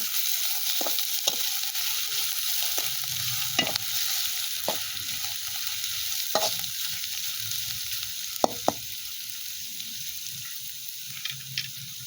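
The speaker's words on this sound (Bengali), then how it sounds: "কিছুক্ষণ নেড়ে নিব।" Chow mein with onions frying in a pan in a village kitchen, with a steady sizzle and a scattering of scraping stirs and clicks from the spatula, close and continuous, no voices.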